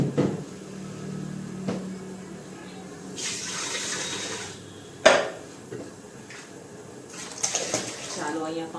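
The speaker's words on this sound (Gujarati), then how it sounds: "દાળમાં થોડુંક પાણી નાખીશું" Water poured into dal in a cooking pot, splashing and rushing in bursts with a sharp clank of metal midway, close, with people talking faintly nearby.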